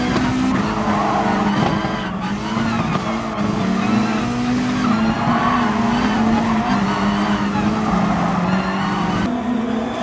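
A car at full throttle on a racetrack through left and right curves, the engine roaring loud and steady throughout, pitch rising and dipping with each shift and corner, faint tire squeal mixed in.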